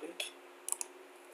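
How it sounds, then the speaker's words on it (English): A computer mouse gives a few faint, quick clicks, including a close pair like a double-click, over a low hum. "So I just have to double click"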